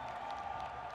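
A crowd at a college basketball Morning Madness event applauds and cheers, a dense, distant wash of clapping that stays even through a brief moment.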